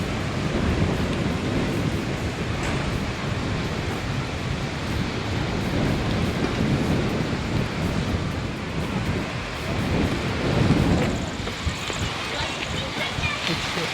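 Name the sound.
heavy rain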